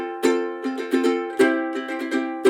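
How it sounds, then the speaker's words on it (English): A ukulele plays an index-finger triplet strum, with bright strummed chords falling in quick groups of three and a pause after each group, close up and with no voices. "What he played is what we call the index finger triplet."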